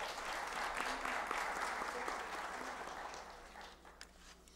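Applause from an audience at a formal ceremony, a soft, distant round of clapping that holds for a few seconds and then gradually thins and fades, with a low background hum.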